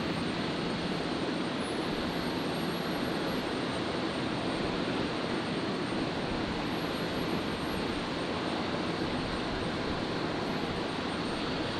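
Flight 412 departing Brisbane Airport at night, a faint, distant, steady jet rumble holding evenly throughout with no voices.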